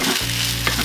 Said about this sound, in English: I'll give it a couple more minutes stir frying just to finish it off